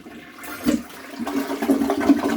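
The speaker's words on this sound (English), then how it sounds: "Flush!" A toilet being replaced at a home flushes, giving a close, rushing gush of water that swells and gurgles for a couple of seconds with no talk.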